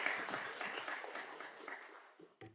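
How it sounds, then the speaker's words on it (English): An audience applauds the judges at a final pitch event, a burst of clapping that starts fairly strong and gradually fades away, ending with a brief knock. "Once again, big round of applause to our judges"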